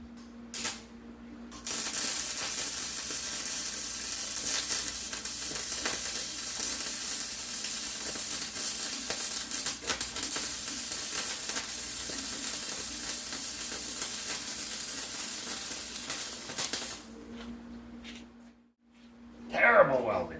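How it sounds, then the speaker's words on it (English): Continuous harsh crackling buzz of welding on a 1970 Jacobsen SuperChief 1450 garden tractor during a steering repair, running steadily for about fifteen seconds before cutting off, with a voice speaking near the end. "Terrible welding."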